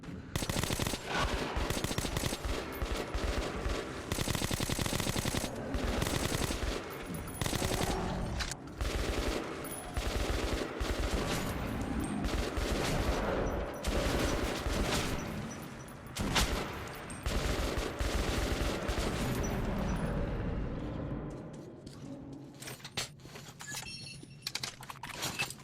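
Gunfire in the shooter Metro Last Light, long bursts of rapid automatic fire, loud and close, with a few pauses between bursts, fading to quiet near the end.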